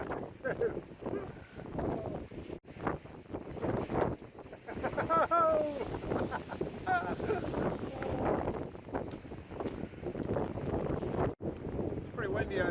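Strong wind buffeting the microphone on a sunny seaside breakwater with sea spray, gusting in rough bursts throughout, with someone talking over it.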